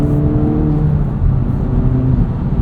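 A 2024 Acura Integra Type S engine drones loud and steady from inside the cabin while driving at higher revs, a smooth sustained hum with a slight rise in pitch.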